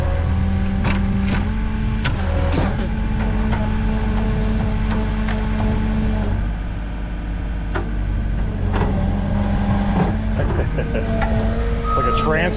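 A skid loader approaches with a loud, steady diesel engine rumble and repeated reversing beeps, nearby machinery clanks, and people talk over it.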